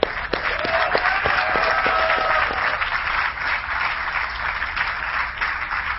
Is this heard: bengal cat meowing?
no